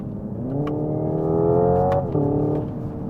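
Hyundai IONIQ 5 N electric car dropping down into second through its simulated DCT gearbox, then accelerating with a loud, steady synthetic engine drone that rises in pitch, dips briefly at a shift and climbs again.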